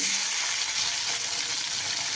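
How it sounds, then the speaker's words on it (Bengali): Potatoes frying in hot oil with cumin and bay leaf, a dense continuous hiss and crackle of sizzling, close and steady, with no voices. "এবার এর মধ্যে আমি আলুগুলো ছেড়ে দিচ্ছি আস্তে আস্তে করে।"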